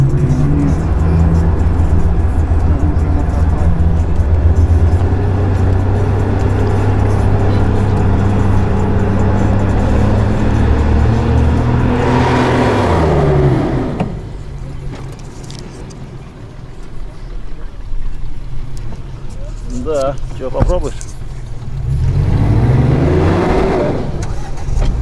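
A Lada Niva 4x4 engine strains loudly and steadily while climbing a steep hill, with a drop in load around the middle before the revs rise again toward the end; speech is faint under the engine.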